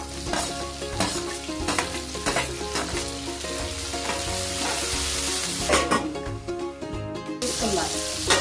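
Drumstick pieces and tomatoes fry in a pan for sambar, giving a steady, close sizzle with occasional stirring knocks, layered over a continuous tonal background.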